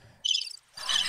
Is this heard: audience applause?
no